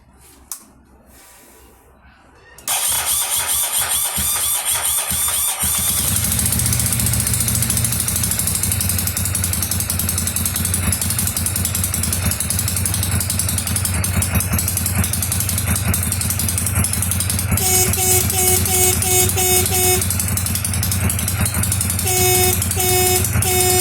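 A Ducati 796 motorcycle engine starts after a quiet moment and settles into a loud, steady idle close by, with short repeated horn beeps sounding over it near the end.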